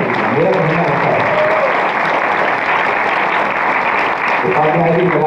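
Steady applause from an audience in a hall at an International Hindi Association event, continuous and fairly loud, with a voice speaking over it.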